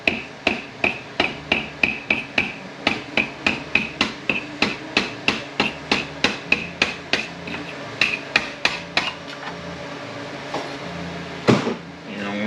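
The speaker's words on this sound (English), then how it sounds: "get a hammer and easily tap on the connector" A hammer taps a metal connector in a quick steady rhythm during 4R100 transmission disassembly, about two to three strikes per second, close and crisp, slowing and scattering near the end.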